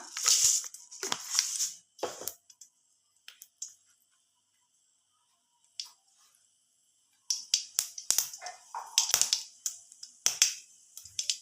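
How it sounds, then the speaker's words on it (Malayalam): Mustard seeds spluttering in hot oil in a pan, heard as bursts of sharp crackling pops that fall quiet for a few seconds and then return as a close, lively run of snaps. "എണ്ണ ഒന്ന് ചൂടായി കഴിയുമ്പോഴത്തേനും അതിലേക്ക് കുറച്ച് കടുക് ഇട്ട് കൊടുക്കാം."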